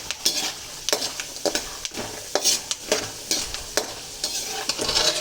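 Peanuts fry in hot oil with a crisp, crackling sizzle, broken by repeated scraping stir strokes at an irregular rhythm, close and moderately quiet, with no talk.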